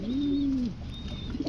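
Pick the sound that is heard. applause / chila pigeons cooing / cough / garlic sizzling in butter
chila pigeons cooing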